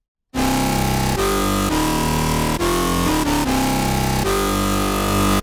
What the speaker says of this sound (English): that sound is coming just from the noise oscillator